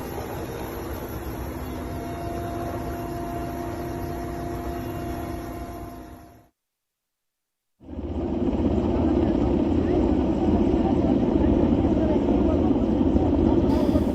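An army helicopter hovering during the Trikut ropeway rescue in Deoghar, a steady loud rotor and engine roar that cuts out briefly to silence and then returns just as strong.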